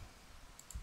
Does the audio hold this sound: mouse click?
yes